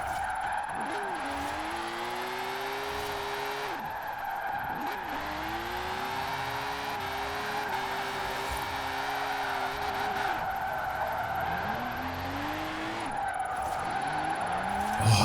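Car spinning out while drifting in Forza Horizon 4: a steady engine roar with sweeping tire squeals rising and falling repeatedly, loud and close, continuous through the whole stretch.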